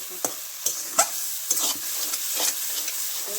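Spice masala fries in hot oil for a chicken curry with green chillies, under a steady sizzle while a spatula scrapes and stirs in close, repeated strokes, with no voices.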